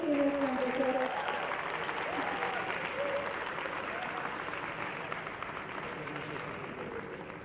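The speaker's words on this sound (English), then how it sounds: "A huge round of applause to Dr. Prasad." An audience at a medical conference applauds, a steady wash of many hands clapping that fades slowly, with a voice speaking over the start of it.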